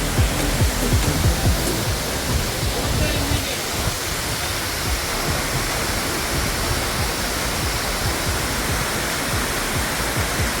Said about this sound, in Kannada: ನೀರು ಬೀಳ್ತಾ ಇರೋ ಸೌಂಡ್ ಕೂಡ ತುಂಬಾ ಇಂಪಾಗಿದೆ